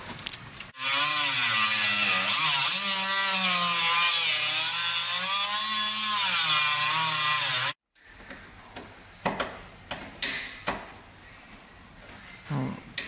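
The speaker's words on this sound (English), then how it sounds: "let me get the Dremel." Dremel rotary tool used on a rusty Datsun 510: a loud, steady high-pitched whine running for about seven seconds with slight pitch wobble, then stopping abruptly, followed by quieter clunks and handling noises.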